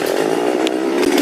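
A Stihl chainsaw, warmed up, runs at a steady loud high-pitched whine throughout, close by and without any talk.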